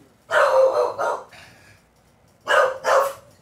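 A dog indoors barks loudly and close after a door slam, two quick pairs of deep barks separated by a short pause, with no talking.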